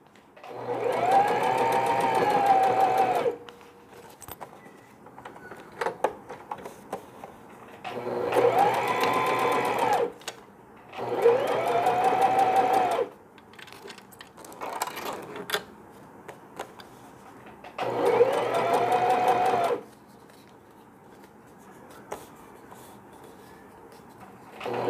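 A sewing machine stitches a hanging laundry bag for babies in bursts of a few seconds each, four or five runs separated by pauses with small handling clicks and rustles, close and clear.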